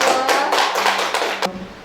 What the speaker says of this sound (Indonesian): Yuk, beri tepuk tangan buat kelompok kedua.